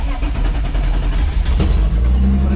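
A turbocharged BMW E36 engine running steadily close by after starting, a low rumbling idle with slight fluctuations and no talking.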